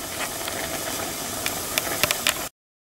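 Plum jam boiling in a pot: steady bubbling hiss with a few soft pops near the end, then an abrupt cut to silence.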